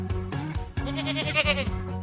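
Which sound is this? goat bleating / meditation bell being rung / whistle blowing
goat bleating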